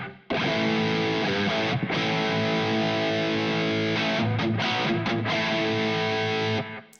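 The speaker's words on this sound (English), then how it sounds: "I've got a very short, tight echo to the sound" Distorted electric guitar in an early brown-sound style, played alone with a very short, tight echo thickening the tone, sustained chords and notes ringing steadily for several seconds before cutting off.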